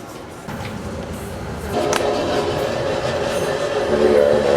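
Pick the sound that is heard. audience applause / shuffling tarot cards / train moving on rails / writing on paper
train moving on rails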